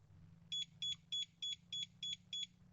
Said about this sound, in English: You've got 7 bleeps that now becomes discoverable